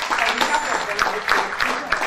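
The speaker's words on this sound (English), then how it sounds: "A round of applause for her, please." Audience applause honouring Mrs. Bolaji Osimhen as she receives an educational award, a dense, steady wash of many hands clapping at moderate loudness with a few louder bursts.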